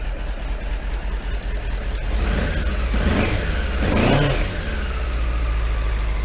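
A Suzuki Bandit 650 motorcycle with carburettor trouble runs steadily after starting on choke, then revs up twice in quick swells before settling back to a fast idle, loud and close with no talking.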